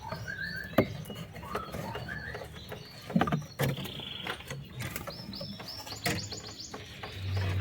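A canary in a breeding cage gives short, high chirps and tweets scattered over several seconds, mixed with light scratching and rustling movement nearby.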